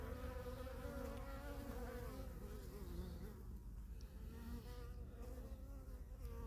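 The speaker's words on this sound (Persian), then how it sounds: "ببینید زنبورا دارن پرواز میکنن و داریم نگاه میکنیم، میبینیم شروع پروازشونه." Honeybees taking flight from the hive at the start of the beekeeping season, a dense continuous buzzing drone of many wings, close and steady throughout with no talk.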